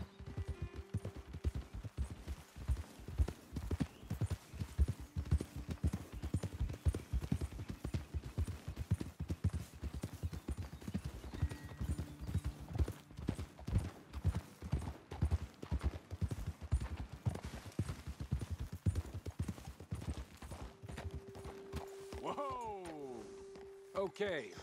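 Horses trot along in the video game Red Dead Redemption II, hooves clip-clopping in steady rhythmic beats close by, with voices talking over the hoofbeats and music tones rising near the end.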